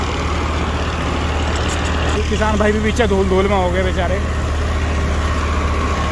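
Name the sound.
tractor engine running in fourth low gear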